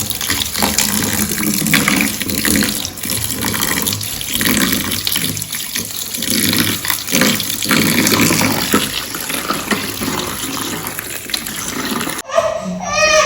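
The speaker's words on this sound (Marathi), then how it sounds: "सर्व असं गाळून घ्यायचं आणि ते दोन तीन पाण्याने स्वच्छ असं धुवून घ्यायचं" Strained curdled milk is rinsed under running tap water, a loud continuous splashing and gushing stream with shifting texture, ending with a brief clatter.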